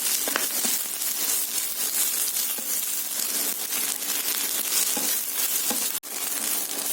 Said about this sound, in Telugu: ఈ పొదిన అలా ఫ్రై అయ్యేంత వరకు ఉంచేసి స్టవ్ ఆపేస్తుంది